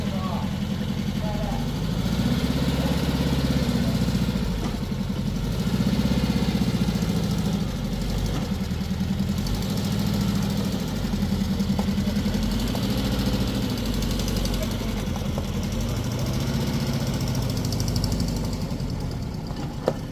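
The engine of a 1960 Volkswagen Single Cab truck, a barn find being revived, runs steadily with a low, slightly uneven hum that rises and falls in pitch as it revs gently, close throughout.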